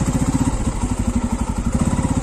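A Bajaj Pulsar F250 motorcycle engine pulses in a steady, rapid low thump as the rider sets off, loud and close with no voices.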